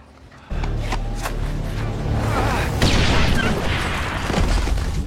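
A loud bomb explosion booms in after a quiet start, followed by sustained roaring rumble and crackling debris for several seconds.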